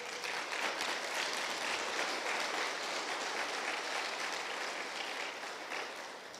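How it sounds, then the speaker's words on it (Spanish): A church congregation claps for Jesus during a sermon, a dense, steady wash of applause filling the room and tapering slightly toward the end. "Dale palmas a Jesús"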